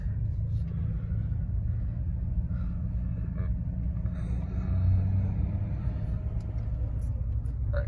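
A 2006 Toyota Tacoma with a grinding third gear drives steadily, its engine and road rumble loud and continuous throughout, with no distinct gear clash standing out.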